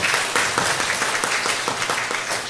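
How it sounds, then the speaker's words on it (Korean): Steady, dense applause from an audience at a lifelong-learning symposium in Ulsan, thanking a professor after her presentation, sustained and fairly loud throughout with no talk. "우리 첫 번째 주제 발표를 맡아주신 김진아 교수님께 다시 한번 뜨거운 박수 부탁드리도록 하겠습니다"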